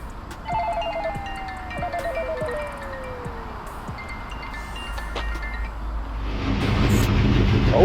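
A phone rings with an incoming call in a vehicle, a repeating electronic tone sounding in short pulsed bursts over a steady low road rumble, with no talk over it.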